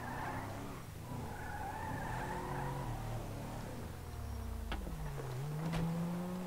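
Car tires skid and squeal in the GTA video game, the engine pitch sliding and revving before sharp impact crashes near the end.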